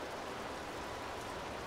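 Rain falling steadily as a soft, even hiss, faint and continuous with no other sounds.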